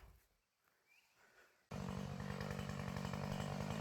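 After a moment of quiet with faint rustling, a chainsaw abruptly roars to life outdoors among trees, then keeps running loud and steady close by.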